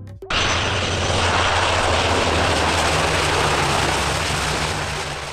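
A Canadair CL-415 Super Scooper amphibious firefighting aircraft roars loud and close, its steady engine drone starting abruptly and holding for several seconds with no talk.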